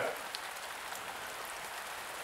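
Steady rain falls continuously, a dense even patter spread across the whole moment with no voices and no pauses.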